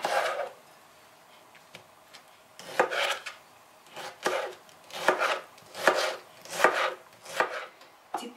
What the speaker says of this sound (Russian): Нарезаем ломтиками помидор.